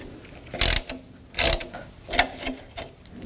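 Ratcheting wrench working 8mm nuts loose on the radiator brackets of a 1984-2001 Jeep Cherokee, giving four short bursts of clicking spaced about half a second to a second apart, close and alone with no talk.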